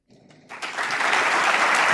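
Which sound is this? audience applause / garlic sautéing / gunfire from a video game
audience applause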